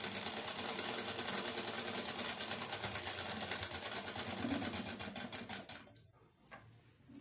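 A sewing machine runs steadily stitching a katori choli-cut blouse, a rapid even mechanical clatter close by for several seconds before it slows and stops, then briefly restarts.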